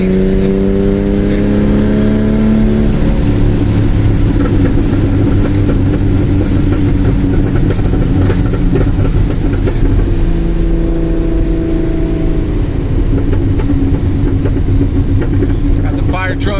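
Datsun 280ZX engine revving on the road on a sunny day, with rising and falling engine tones and crackling exhaust pops on the overrun, loud and close from inside the car, with people talking over it.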